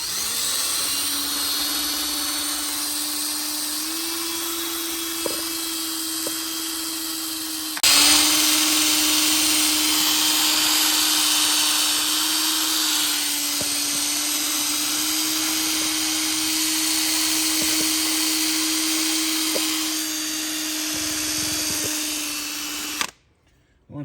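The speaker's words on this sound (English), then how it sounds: "I take a drill." A power drill whines steadily for a long stretch while cleaning a Toyota Corolla hybrid's wheel hub, with a brief pause and a jump to a louder, harsher buzz before it cuts off near the end.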